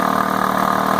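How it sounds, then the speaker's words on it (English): A 2005 Ford Freestyle idles in neutral, giving a steady, close mid-pitched drone with constant vibration and no break. The hum comes from a suspected front planetary assembly fault in the transmission. "Most likely it's the front planetary assembly and the transmission causing this"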